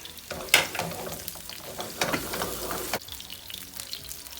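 Garlic frying in a pan for Turkish maqluba sizzles steadily, with stirring scrapes and a sharp clatter near the start and a brief pause in the crackle toward the end.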